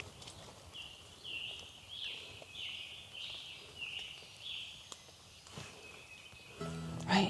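Birds sing in a forest after rain along the Appalachian Trail, a repeated chirping phrase over a quiet, damp background, with a louder rustle near the end.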